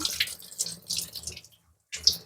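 Water splashing as parts of an RO water purifier are rinsed, several short close bursts of running and dripping water broken by a brief silence before a final splash.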